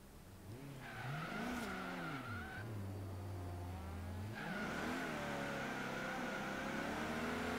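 A car in Forza Horizon 3 driven at full throttle in reverse, its engine revving hard and climbing through rising and falling pitch sweeps, with a steady high whine building toward a sustained roar.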